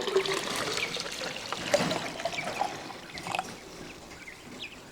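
Water poured from a container into a chicken waterer, a soft continuous trickle and splash with a few louder gurgles, close and alone.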